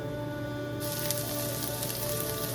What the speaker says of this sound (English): let this saute until this is like translucent